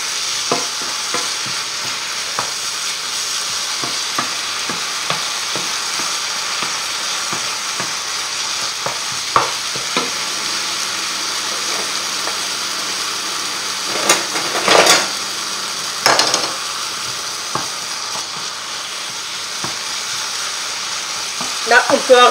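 Eggplant sautéing in a pan for eggplant lasagna, a steady soft sizzle with occasional clinks and scrapes of stirring, plus a couple of louder bursts and brief talk nearby.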